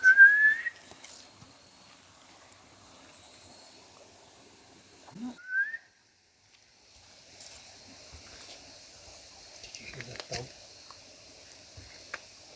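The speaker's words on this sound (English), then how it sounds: "Then I heard a whistle in back of you." A few short rising whistles, one sharp at the start and another midway, set against quiet hiss and faint background noise.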